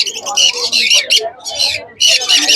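Exotic pet birds at a Kolkata-area pet market, about a year and a half old, give loud, shrill chattering calls in quick bursts close by, with brief pauses between them.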